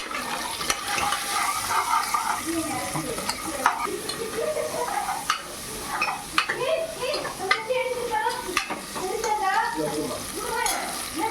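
Green chilies frying in a pan for moong dal sambar, a busy crackling sizzle with frequent stirring scrapes and clinks of a utensil, close up, while a person talks over the cooking.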